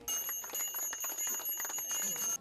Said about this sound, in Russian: Право дать первый школьный звонок был предоставлен 11-класснику Вячеславу Беченову и первокласснице Алине Гу